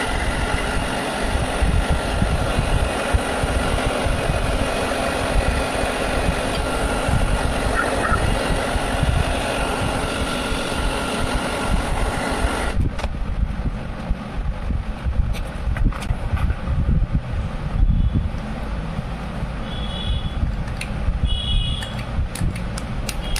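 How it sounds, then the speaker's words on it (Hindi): An electric dryer blows air onto a Chevrolet Spark EGR valve, a continuous whooshing hum for about thirteen seconds before the sound drops to a quieter, thinner background with scattered clicks. "तो मैं इसको जल्दी से ड्रायर लगाता हूँ"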